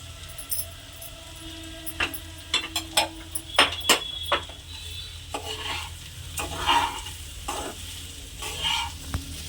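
Puffed rice is tipped into a pan of fried spice masala and stirred, producing crisp, close spoon scrapes and clicks in uneven bursts over a low, continuous sizzle.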